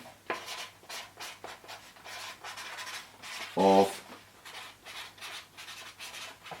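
Repeated squeaky rubbing strokes of a marker across a board, in short bursts, with a brief spoken word partway through.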